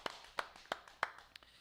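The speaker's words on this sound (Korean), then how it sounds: "하나님께 영광의 박수 돌려드리겠습니다." A congregation at a Christmas service in a Full Gospel church claps faintly in a slow, even rhythm of about five sharp beats, with no talk over it.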